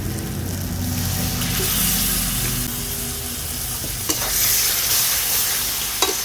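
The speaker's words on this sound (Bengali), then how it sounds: "এই সময় মশলাটা দেখো লেগে যাওয়ার চান্স থাকছে, তাই এতে আমি দিয়ে দেবো একটুখানি জল।" Rajma masala sizzles steadily in a pan as a little water goes in and the spices are stirred, with scraping strokes and a couple of sharp knocks over the continuous frying hiss.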